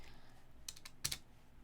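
Several quick keystrokes on a computer keyboard, soft clicks in two short bursts close by against faint room noise.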